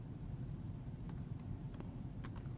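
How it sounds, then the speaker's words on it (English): Typing on a computer keyboard, a few quiet, scattered key clicks over a soft low hum, with no talking. "I'm going to start typing those here"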